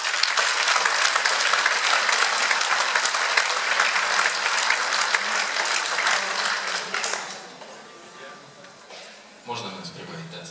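Audience applause welcoming an accordion duo at a concert hall: loud, dense clapping from a large crowd that fades after about seven seconds into quieter room noise, followed by a voice and some shuffling.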